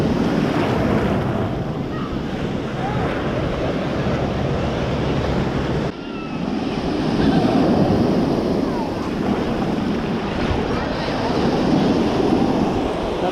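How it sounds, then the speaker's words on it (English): Ocean waves break offshore and roll steadily onto a beach, a continuous loud wash of surf mixed with wind buffeting the microphone throughout. "The waves are kind of breaking off there and just rolling in here, not too bad."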